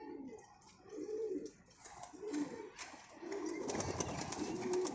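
Pigeons coo in a breeding loft, giving repeated soft, throaty rolling calls close by. Rustling and faint shuffling of the birds build toward the end.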